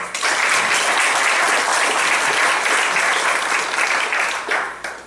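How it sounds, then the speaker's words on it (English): A town hall audience in Greenville, Pennsylvania breaks into sustained, dense applause that stays loud and steady throughout before tapering slightly at the end. "Give yourselves a round of applause"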